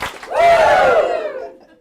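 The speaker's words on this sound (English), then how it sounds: "Let's give Julie some love with some Ric Flairness. 2 claps and Ric Flair" A conference audience lets out a loud, sustained group "woo" in the style of Ric Flair, a rising and falling crowd yell lasting over a second before fading; the claps are not distinct.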